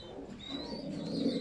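Pigeons from a racing pair cooing close by, a soft low murmuring that swells steadily through the short stretch with no talk over it.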